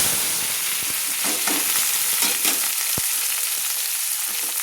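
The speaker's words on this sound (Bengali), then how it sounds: "গোটা পেঁয়াজ আমি লাল লাল করে ভেজে নেব।" Chopped medium onion fries in oil, a constant bright sizzle close to the pan with intermittent stirring scrapes and one sharp knock of a utensil.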